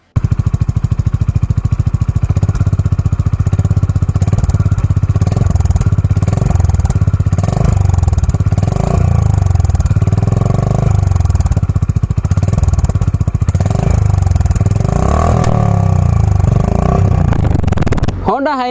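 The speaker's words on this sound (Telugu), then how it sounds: "మరి ఈ బైక్ ఎగ్జాస్ట్ నోట్ ఎలా ఉందో ఒక్కసారి వినండి." A Honda Highness CB350 single-cylinder motorcycle idles and is revved, its thumping exhaust pulsing steadily and close, with throttle blips rising and falling over the long stretch.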